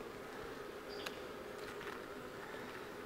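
A dense, even drone of agitated honeybees swirls around an open hive during frame inspection, close and constant, with a few brief clicks and no talking.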